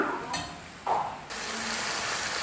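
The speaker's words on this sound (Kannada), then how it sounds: "ಆಮೇಲೆ ಈಗ ಕಟ್ ಮಾಡಿರೋ ಟೊಮೆಟೊನ ಹಾಕ್ಕೊಳ್ಳೋಣ." Chopped tomatoes drop into a hot pan with onions for tomato gojju, setting off a soft, steady sizzle that swells after a brief clatter and continues quietly.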